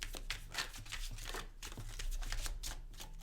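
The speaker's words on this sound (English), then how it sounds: "I do need to like do a little extra shuffle to tap in a little bit more" Tarot cards are shuffled repeatedly in quick, crisp riffles and flutters, close up and fairly quiet, with no talking.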